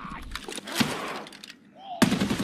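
Zombies firing guns at the player in Escape from Tarkov: a few sharp bursts of gunfire, one short volley near the start and another toward the end, moderately loud, with a little talk in between.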